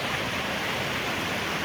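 A swollen brook after Storm Chandra rushes at full volume, a steady close roar of churning water filling the whole clip with no pauses or voices.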